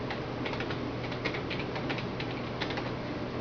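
Rapid keystrokes on a computer keyboard as a file name is typed, a steady run of light clicks close to the listener over a low constant hum.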